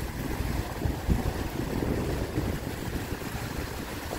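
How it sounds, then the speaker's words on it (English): Strong wind gusts over a river, pushing the water along in a steady, roaring rush with buffeting wind noise on the microphone throughout. "And this wind, when it actually blows, it's actually blowing the water over the river."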